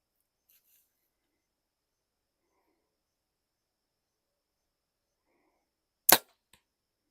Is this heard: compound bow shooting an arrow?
yes